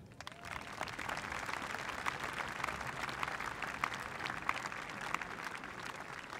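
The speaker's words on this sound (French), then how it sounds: "Et ça, je crois qu'on peut l'applaudir." Audience applauding at the inauguration ceremony of Rocher Mistral in Provence, a broad crowd of clapping sustained evenly throughout, moderately distant, with faint voices mixed in.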